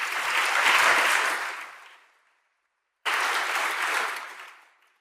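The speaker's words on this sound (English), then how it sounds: "Please give a warm applause and welcome to Dave Goulson." Warm applause from a conference audience welcoming a keynote speaker on insect decline, a dense, steady clapping that swells and fades, breaks off briefly, then returns in a second full burst.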